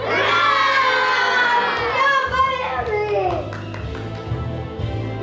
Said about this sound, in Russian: А теперь все улыбаемся и кричим «Ура!»